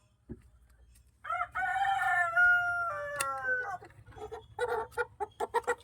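A rooster crows loudly and close, one long drawn-out call, followed by a series of quick clucks from nearby chickens in an otherwise quiet setting.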